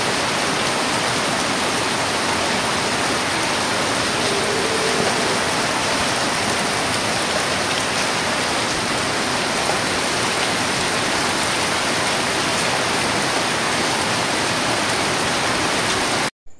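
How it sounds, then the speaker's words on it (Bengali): Heavy rain pours steadily outdoors, a dense, continuous wash of falling water that holds at the same loudness throughout with no voices over it. "আর এখন পড়ছে বাইরে ভীষণ বৃষ্টি।"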